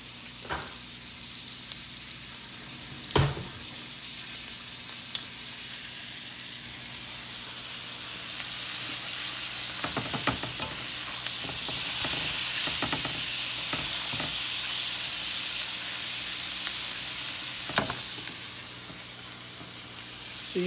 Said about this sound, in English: now we're going to add the